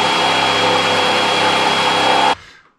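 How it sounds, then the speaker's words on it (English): A spot weld remover bit in a power drill whines at steady high speed, boring out a spot weld on a Porsche 964 body, loud and close, then spins down and stops abruptly. "I just have a spot weld remover here. I'm going to see if I can gently drill it out using that."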